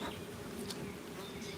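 Honey bees buzz at an open hive, a faint, continuous and even drone with no voices over it.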